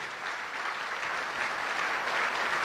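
Sustained applause from a seated audience in a hall, a dense, even patter of many hands clapping at steady volume throughout, with no one speaking over it.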